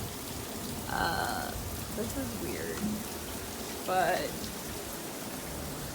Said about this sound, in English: it's like storming, but it's super bright outside.